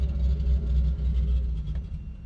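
Lexus IS300 car driving on a road, with a steady low engine and road rumble continuing throughout at close range, without any voices.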